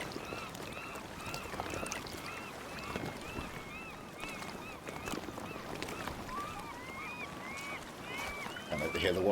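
Seagulls in the video game Sons of the Forest, many repeated calls over a wash of waves and wind, some near and some farther off, continuing steadily.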